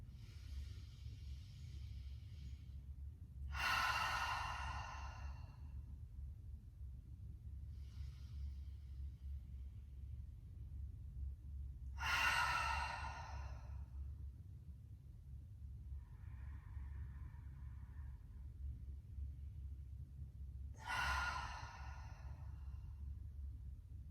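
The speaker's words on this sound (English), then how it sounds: "We'll go for 3 breaths. Ready for the inhale." Slow, deep breathwork during a restorative yoga flow, three long airy exhales spaced several seconds apart, each a soft rushing hiss over a steady low rumble, with fainter inhales between them.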